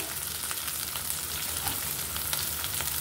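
Chilies and onion frying in a pan for Barisal-style shrimp jalbora, a steady close hiss and crackle of hot oil that runs unbroken without any voices.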